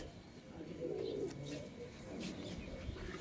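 Pigeons of a fine flying breed with red feet coo softly in a loft, the low murmuring coos coming close and moderate, with someone talking over them at times.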